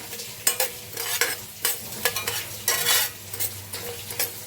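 Ingredients for a coastal-style silver fish sambar being fried and stirred in a pan, giving a steady sizzle broken by repeated scraping strokes of a spoon against the metal, close and fairly loud, with no talking.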